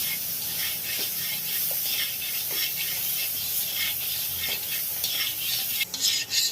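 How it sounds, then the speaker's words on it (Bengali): Pumpkin pieces fry in a pan with salt and turmeric, giving a steady close sizzle broken by repeated scraping stir strokes, with a louder clatter near the end; no one speaks. "লবণ আর হলুদ দিয়ে ভেজে নেব"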